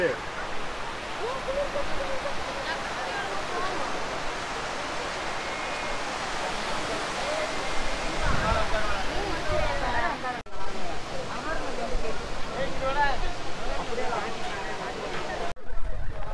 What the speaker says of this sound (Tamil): மெயின் அருவியை பொறுத்தளவுக்கு தண்ணீர் அதிகமாகவே விழுந்துக்கிட்டு இருக்குது